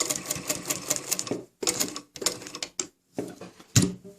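A sewing machine stitches a twin-needle zigzag along a sleeve placket, running in rapid bursts of rhythmic clatter with short pauses between runs, close and fairly loud.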